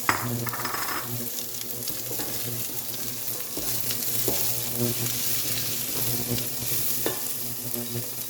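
Chopped onion, garlic and bay leaf frying in a hot pan, giving a steady close sizzle with occasional stirring scrapes throughout, no voices.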